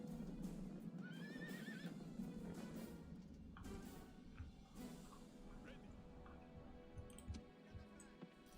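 A horse whinnies in a battle of the strategy game Empire: Total War, a short rising-and-falling neigh near the start over quiet, busy battlefield ambience with scattered clicks and faint thuds.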